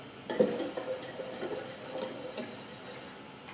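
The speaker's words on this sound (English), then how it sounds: "Now we're going to stir one more time." A spoon stirs a yeast and sugar starter for election cake dough in a bowl, with a light clink at the start and then soft, steady scraping close by, without any talking.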